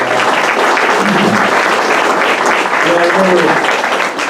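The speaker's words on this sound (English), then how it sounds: "Let's give them a round of applause." Loud, sustained applause fills the room at a senior sports banquet honoring the American Legion, dense clapping running throughout while voices murmur underneath.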